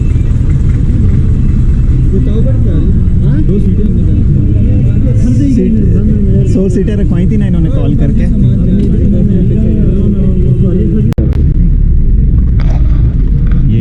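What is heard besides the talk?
jeep engine as the group sets off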